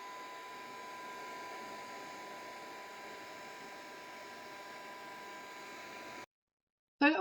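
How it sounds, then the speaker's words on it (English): Heat gun blowing hot air onto Tyvek from about an inch away, a steady loud whooshing roar that runs unbroken for several seconds, then cuts off into silence before a brief clatter. "Whenever you work with a heat gun, you work about an inch away from your work."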